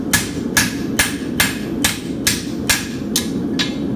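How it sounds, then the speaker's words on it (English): Steel horseshoe hammered flat on an anvil by a blacksmith: nine evenly spaced, sharp ringing blows over a steady low background hum, close and loud, with no talking. "Now we want to flatten the shoe again."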